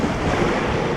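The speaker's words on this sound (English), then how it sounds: "oh, look at the waves." Ocean waves off Bonaire, heard from a boat after a snorkel trip: a steady, loud, continuous wash of surf mixed with wind buffeting the microphone, with no voices.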